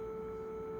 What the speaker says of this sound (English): If I use the distortion with low gain